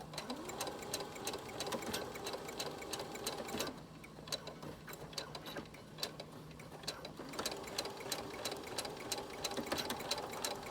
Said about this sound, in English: I am sewing over my pins